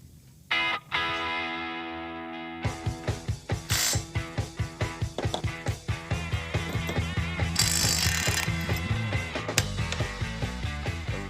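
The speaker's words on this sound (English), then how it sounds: "our bolts are in, they are torqued" New bolts being torqued on a 1957 Chevrolet Bel Air: a close, rapid run of sharp mechanical ratcheting clicks, heavily distorted and loud, repeating steadily for several seconds.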